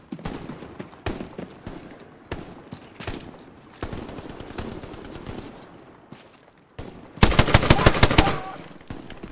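Gunfire in the World War II shooter Hell Let Loose: scattered single shots cracking at intervals, then a loud, rapid close-range automatic burst near the end.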